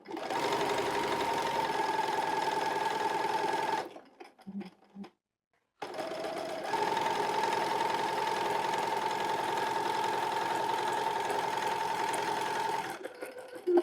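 Close sewing machine stitching a child's pajama, running in a steady continuous whir for about four seconds, pausing briefly, then resuming and stitching steadily to the end.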